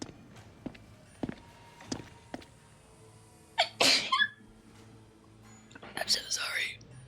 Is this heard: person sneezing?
yes